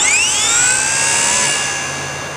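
A Blade mCP X micro RC helicopter spools up outdoors on a calm afternoon, a loud rising high-pitched whine from the electric rotor motor that levels into a steady tone and then eases slightly.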